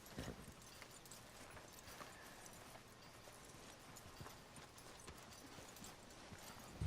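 A horse's hooves clip-clop at a steady walking rhythm in Red Dead Redemption 2, a close, regular clatter of faint hoofbeats running throughout with no voices.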